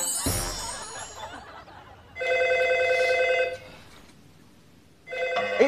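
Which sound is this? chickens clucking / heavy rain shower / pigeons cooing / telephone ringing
telephone ringing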